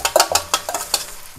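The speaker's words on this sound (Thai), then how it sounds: "ไปพัดเครื่องเทศนะครับให้มันหอมๆ" Spices stir-fried in hot oil in a pan while cooking a spicy rice-field rat stir-fry with holy basil: close, loud sizzling crackle with several quick scraping stirs, alone with no talk.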